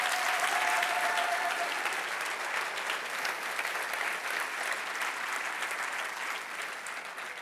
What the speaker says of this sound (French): Est-ce qu'on peut lui donner une main d'acclamation si on le croit ce soir?